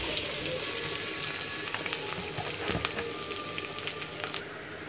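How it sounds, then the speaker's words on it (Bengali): Onions fry in hot oil in a wok or kadai, a continuous close sizzle with scattered crackles and pops that stays steady and loud, and no one speaks. "তেল গরম হয়ে গেলে এতে পেঁয়াজ দিয়ে দিতে হবে।"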